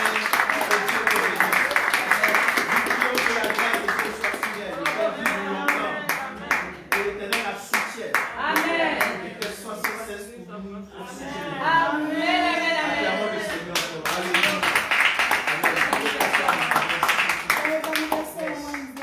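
Church congregation clapping in acclaim during a birthday celebration at a service, sustained dense applause with voices mixed in, a brief lull near the middle before the clapping swells again.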